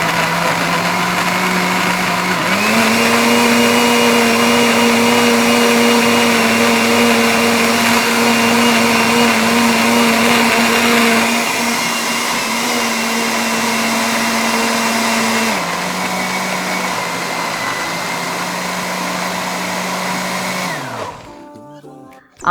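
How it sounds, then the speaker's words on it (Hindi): A blender whirs loudly as it purees frozen mango into a smoothie, holding one steady motor drone, shifting pitch partway through and then winding down to a stop at the end. "अब हम ब्लेंडर ऑन करेंगे।"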